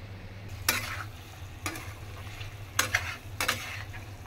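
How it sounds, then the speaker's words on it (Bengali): Potatoes fried in oil in a home kitchen for aloo dum, with a low steady sizzle and a few distinct stirring scrapes, close and moderately quiet, without speech. "রাহা আলুটাকে অবশ্য তেলের মধ্যে ভাইজা নিচ্ছে"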